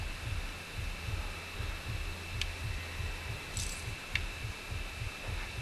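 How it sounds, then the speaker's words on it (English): A heartbeat in the horror video game Outlast thuds in a steady, low, repeating rhythm beneath a faint hum, with a few light metallic clicks scattered through. "I can hear the heartbeat."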